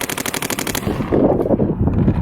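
Rapid paintball marker shots from a Planet Eclipse CS2 fitted with a mechanical frame, a quick even burst of about eight sharp pops, close and loud, followed by low rumbling handling noise.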